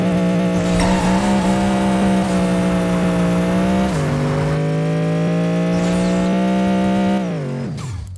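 A 1997 TVR Carrera Speedtrail fitted with a Cobra DSR engine and stock transmission roars through a half-mile run in the racing game Apex Racer, its engine note climbing steadily with gear shifts before easing off near the end.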